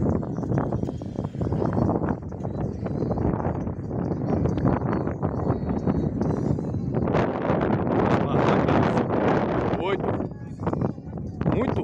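Wind buffets the microphone outdoors at the traditional August festivities in the Aguada Nova district, a continuous loud rumbling roar that persists under someone talking throughout.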